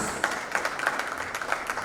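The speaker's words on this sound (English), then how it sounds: "Let's give a huge round of applause once again to the beautiful ladies who performed for us" An audience applauds a group of women after a cultural dance performance at an awards ceremony in Bali, producing a steady, fairly dense wash of clapping with no voices over it.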